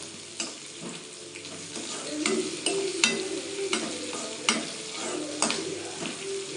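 Onions and coconut fry in a pan for a Kerala shallot theeyal, sizzling steadily as a spoon stirs through them with repeated scraping strokes, close and moderately loud with no talking.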